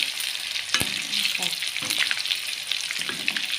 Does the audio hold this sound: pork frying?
yes